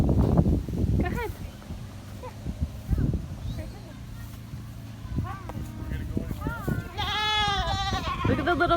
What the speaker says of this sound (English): You want to come pet the goat with Sissy?